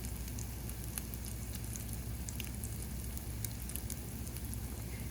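Salmon patties sizzle steadily in a frying pan, a constant hiss with scattered pops and crackles, close and uninterrupted with no talking.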